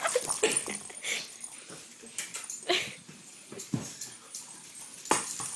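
A dog whimpers and yips in short, uneven bursts nearby, with soft whines and sniffing between them and faint background movement.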